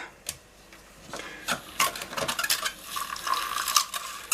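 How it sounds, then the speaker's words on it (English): A whisk stirs a bourbon and cola soap mixture in a bowl, quick rhythmic clinks and swishes rising into a steadier whirring scrape, close but fairly quiet. "So just give these a little whisk up."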